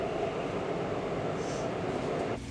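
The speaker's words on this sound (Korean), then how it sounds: "빈자리 찾는 게 어렵지 않은 지하철 안." Steady rumbling drone of a subway train riding along inside the car, loud and continuous with a faint higher whine, ending in a brief shift near the end; no talk.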